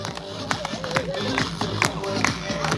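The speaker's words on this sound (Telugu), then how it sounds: "మరి ఏది గట్టిగా క్లాప్స్ ఎంకరేజ్మెంట్ చేద్దాం" An audience at an Ugadi festival public talk in Vizag claps in encouragement, giving scattered, uneven claps over background chatter and music-like tones, moderately loud and close.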